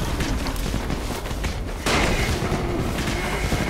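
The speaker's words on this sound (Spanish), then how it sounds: "Quería tirar petardos para allá." Firecrackers burst in the zombie game Dying Light, a dense, loud run of booming blasts and crackling pops that jumps to an even heavier roar of explosions halfway through.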